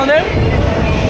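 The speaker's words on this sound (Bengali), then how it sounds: "ট্রেন চলে আসছে, ওই দেখো ট্রেন ঢুকছে" A train pulls into a station during a storm, its broad rumbling roar filling the scene loudly and continuously while several people talk close by.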